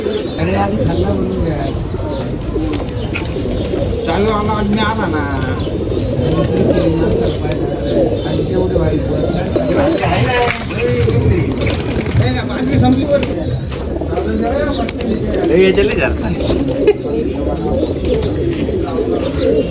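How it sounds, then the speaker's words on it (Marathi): A flock of racing pigeons coos continuously and nearby, layered soft throaty calls with occasional chirps, while people talk in the background at a festival in Nashik, India. "सातशे कबूतर आहे"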